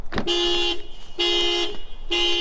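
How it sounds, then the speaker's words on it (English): A Subaru car alarm blares nearby in repeated loud honking bursts, three long tones separated by short gaps. "alarm goes off"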